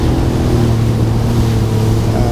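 A jet ski racing across the water at Subic, its engine droning loud and steady throughout with wind and splashing water mixed in.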